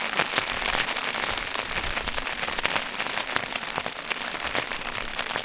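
Rain falls steadily on a tarp storm shelter during grim weather, a dense close patter of drops with sharper taps scattered throughout.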